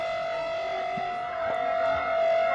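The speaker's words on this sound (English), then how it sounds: "looks like the sirens are being warmed up" A civil defense siren under test in central Delhi holds one steady, loud wailing tone throughout, with faint background noise beneath it.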